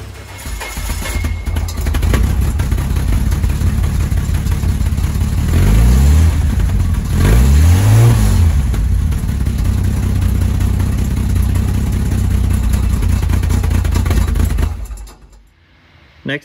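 A Series 1 Jaguar XJ6 engine cold starting with one fuel tank removed, running loud and close at a rough idle with two swelling revs in the middle before cutting off at the end.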